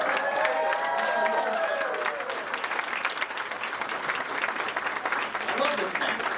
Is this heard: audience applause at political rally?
yes